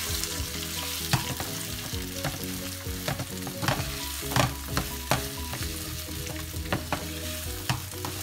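Shrimp, garlic and onion fry in a pot for a caldo de camarón, a busy continuous sizzle punctuated by sharp spattering pops and utensil clicks, with no talking.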